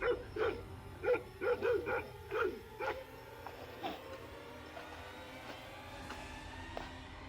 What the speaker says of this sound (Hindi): लगता है कोई बच्चों को कुत्ते न पड़ गए हो